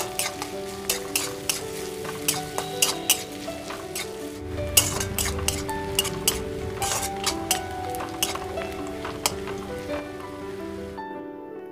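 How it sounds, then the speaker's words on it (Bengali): Two medium chopped onions added to hot oil with cumin and a dried chili for a Bengali fish curry with mustard paste, a steady close sizzle punctuated by frequent clinks of a spoon stirring against the pan. "এখন এর মধ্যে দুটি মিডিয়াম সাইজের পেঁয়াজ কুচি দিয়ে দিলাম।"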